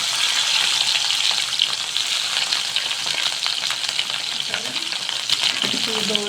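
Chopped onions fry with green chilies in a pan for a palak and spring onion curry. A bright, continuous sizzle carries on close up, with faint stirring and clinks now and then.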